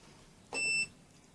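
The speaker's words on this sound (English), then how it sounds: "Remember how to use the meter. Beep." Multimeter continuity beep while testing an Onkyo TX-SR605 receiver circuit to ground, one short steady electronic tone about a third of a second long, clear over faint background.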